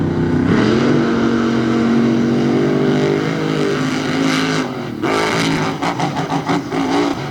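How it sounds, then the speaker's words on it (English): Hemi-powered monster trucks race down a drag track at Indy, a loud, continuous engine roar with rising revs, then a brief dip and choppy fluctuating bursts as they tear away. "That big Hemi horsepower took over about half track."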